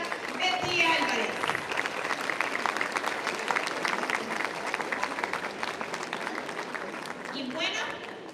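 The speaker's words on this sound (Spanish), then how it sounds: "Fuertes los aplausos para la señora Betty Álvarez." Audience applauding at a town beauty-queen election event, sustained dense clapping with some crowd noise that swells and tapers over several seconds, with a voice briefly audible near the start.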